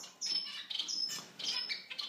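Society finches, also called Japanese munias, chirp in a breeding cage with repeated high, thin tweets and short calls, close and fairly quiet, alone without talk.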